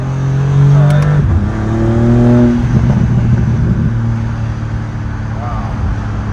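A BMW M4 G82 with a one-piece stainless steel exhaust revs up close, its deep engine note rising and falling in a few loud swells before settling into a steadier drone, with voices faintly present.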